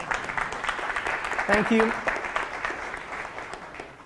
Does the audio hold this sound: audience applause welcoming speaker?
yes